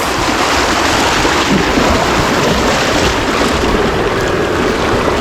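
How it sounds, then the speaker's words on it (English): A ride down a pool water slide at Disney's Contemporary Resort brings a loud, constant rush of water and wind buffeting the microphone, an unbroken roaring wash close up. "going down the water slide"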